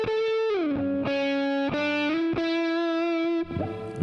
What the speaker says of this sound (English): so that's only the overdrive